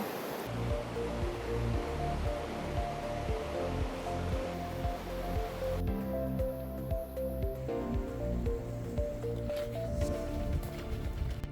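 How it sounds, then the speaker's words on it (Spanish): A mountain river on the Salkantay trek in Peru, a loud continuous rushing roar of fast water heard up close, steady throughout with no voices. "Miren qué increíble el río ahí."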